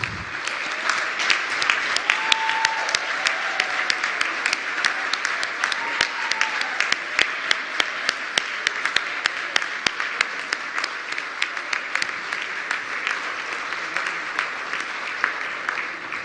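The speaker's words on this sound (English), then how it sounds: "Can I please have a round of applause, ladies and gentlemen" Large conference audience applauding at a cyber capacity building event, a dense sustained roar of clapping with sharper individual claps popping out, steady and continuous throughout.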